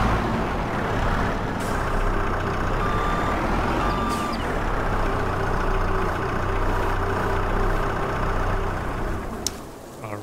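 A tractor in Farming Simulator 22 reverses and parks, its engine a steady low drone with a loud repeating reversing beep running through it for about ten seconds, with no talking.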